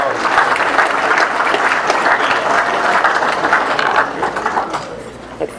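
A crowd at a high school senior awards ceremony applauds with sustained, dense clapping that holds steady for several seconds before tapering off toward the end.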